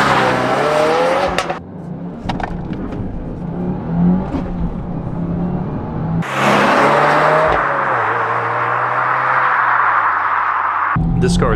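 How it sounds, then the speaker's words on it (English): A 2022 Subaru WRX launches hard from a standstill toward 60 mph, its engine revving loudly up through the gears with brief dips at the shifts, close and prominent throughout. "We're going to do a 0 to 60 launch and then go up some windy corners."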